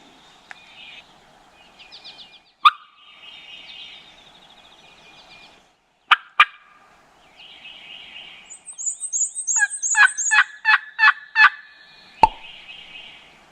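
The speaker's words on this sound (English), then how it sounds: "gobbling, but he's down in there" A wild turkey gobbles from down in Kentucky hardwoods, its rattling calls coming in bursts at moderate distance along with a few sharp clicks and higher calls, with no voices.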